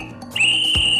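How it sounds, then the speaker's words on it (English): A shrill dog whistle blast rings out alone, a steady high-pitched tone held for most of a second after a brief rising onset, with a low thump partway through. "With this dog whistle and this megaphone, I can round up all the dogs in town!"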